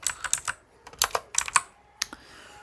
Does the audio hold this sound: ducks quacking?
no